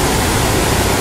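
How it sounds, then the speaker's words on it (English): Steady, loud roar of Duchesnay Falls in North Bay, Ontario, as water pours down over rocks; a dense, unbroken wash of noise fills the whole second with no voices. "Just the roar of the water coming down the rocks."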